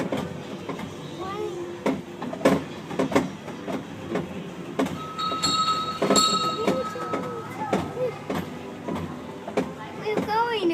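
Small mall train rolling along, with rhythmic clicks and clanks of wheels and cars, a few squeaky tones and a chime, while people chatter over the running noise.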